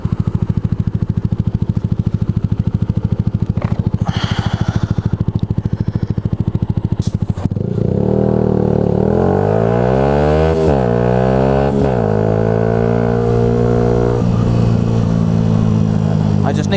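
A motorcycle rides past or alongside on the road and its engine note rises and falls with the revs. The riding starts out muffled under steady buffeting, then the engine comes through loud and clear.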